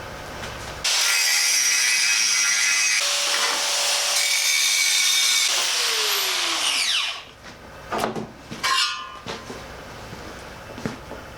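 Power tool cutting a notch into the dumbirons of a Land Rover Series 3, a loud, harsh whine for about six seconds that winds down in pitch, followed by a few scattered metallic knocks and handling noises.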